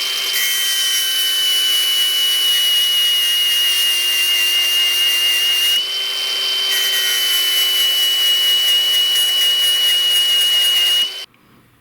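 A steady, loud grinding whine with a high metallic tone as one side of a drill bit is ground flat runs continuously for several seconds, briefly dipping midway, then cuts off abruptly.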